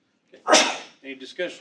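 A single loud sneeze bursts out in a school board meeting room, followed right away by a person speaking a few words.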